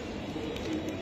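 Racing pigeons kept for sale coo softly in a brief, low, murmuring burst against faint background noise.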